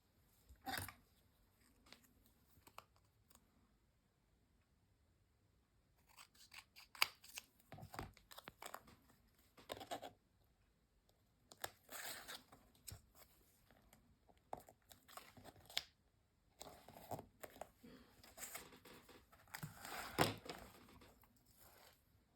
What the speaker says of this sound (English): let's cut a dial in half